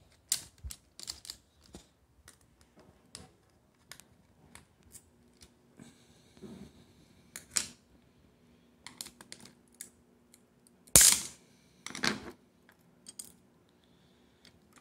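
Unscrewing a small screw inside a laptop hard drive produces sparse, close, sharp metallic clicks and ticks of a tiny screwdriver, with scattered soft handling taps and one louder clack.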